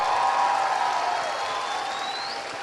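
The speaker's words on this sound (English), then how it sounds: "please applaud all the mentors and all of your teams" Audience at a robotics competition opening ceremony applauding mentors and teams, a dense, even wash of clapping filling the hall, sustained and fairly loud for a few seconds.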